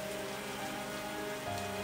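Rain falls steadily on a surface, a dense continuous hiss of drops at even, moderate loudness with no voices.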